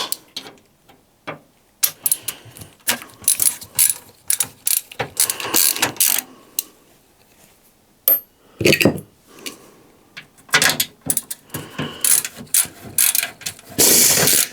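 Screws are undone on a 5000D Airflow PC case, with repeated ratcheting, clicking bursts of metal mechanism noise, loud and close, coming in irregular spurts separated by short pauses.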